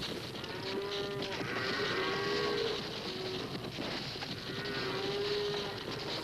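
Cattle mooing on rolling grassy rangeland, two long drawn-out moos with a herd faintly lowing under steady outdoor background noise.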